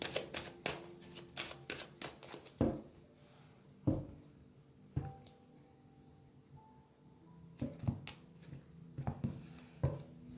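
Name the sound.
tarot card deck being shuffled and cut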